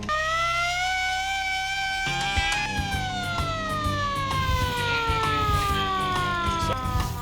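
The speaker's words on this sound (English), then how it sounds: "this air raid siren was mostly used by the Japanese to sound the alarm whenever danger was heading their way" A hand-cranked World War II Japanese air raid siren winds up into a loud, wailing rising tone, then slowly falls in pitch as the cranking eases, with mechanical rattling underneath.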